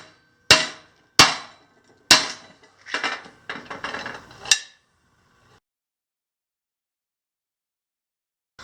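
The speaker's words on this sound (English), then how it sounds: "if I whack it a couple of times with a hammer, it'll do it" A hammer strikes aluminum in a bottle capper converted into an embossing arbor press: three sharp, separate metallic whacks, then a quick cluster of lighter knocks, followed by silence.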